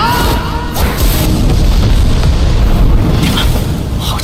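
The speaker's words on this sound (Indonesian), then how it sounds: "Sebuah ledakan dahsyat bergema di Cakrawala Kota Ye" A heavy booming explosion erupts as two magic seals collide in an animated battle, a loud dense crash with sustained rumbling debris that fills the whole stretch.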